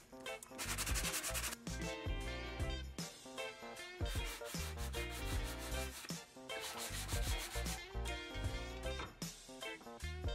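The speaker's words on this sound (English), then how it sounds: "I'm gonna try and sand it" Rhythmic sanding strokes rasp against the dinged corner of an Art Deco wooden cabinet, close and steady with brief pauses between bursts.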